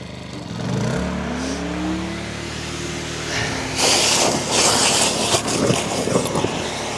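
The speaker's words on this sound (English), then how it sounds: "I'll just gutter vac it now" A gutter vacuum powers up to empty a solidly blocked gutter, its motor rising in a whining spin-up before settling into a loud, steady roar with rough rattling suction bursts of debris, close and continuous.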